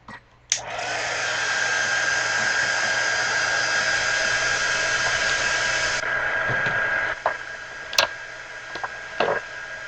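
A hair dryer blowing over an acrylic pour painting on canvas, switching on with a click, then a loud steady whir for several seconds before cutting to a lower setting, followed by light taps.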